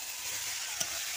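Pre-fried cauliflower dropped into a spice masala and stirred, a brief steady sizzle with a single soft clunk partway through.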